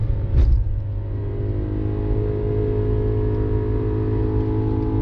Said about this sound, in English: And just listen to that engine.